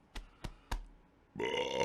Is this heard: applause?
no